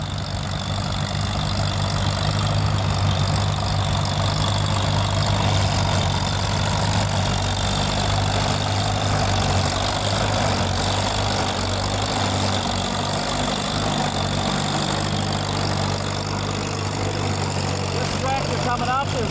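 A 1955 Massey Harris 44 Special antique tractor engine at a tractor and plow parade, a steady low throbbing idle-like drone, loud and continuous, with a voice speaking over it.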